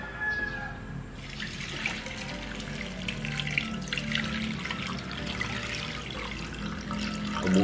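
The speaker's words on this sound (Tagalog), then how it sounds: "Tumapon yung gatas." Milk pours and spills in a home kitchen while breakfast is made, a faint continuous trickling splash running steadily throughout, with light clinks and no talk.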